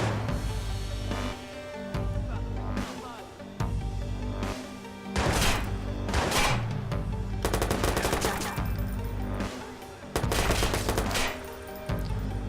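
Video game gunfire from Watch Dogs: repeated loud bursts of automatic weapon fire and single shots in irregular clusters over a steady low background hum.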